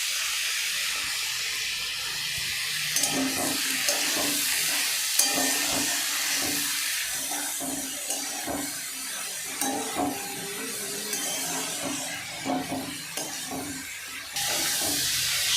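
Malabar spinach vegetables with salt and turmeric fry in a pan with a constant hissing sizzle, broken by repeated clinks and scrapes of stirring that grow more frequent toward the end.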